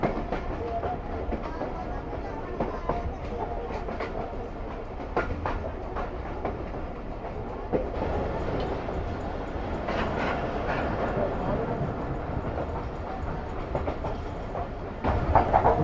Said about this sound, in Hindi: ट्रेडिशनल ब्रांच लाइन के ट्रैक साउंड के साथ हमारी ट्रेन आगे बढ़ रही है इस वक्त